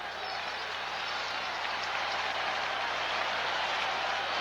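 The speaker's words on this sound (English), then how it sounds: "Crowd urging the Redskins on." A dense, steady roar of a large football stadium crowd cheering for the Redskins at a 1983 home game against the Raiders, a broad wash of voices holding at an even level throughout with no break and no voice rising above it.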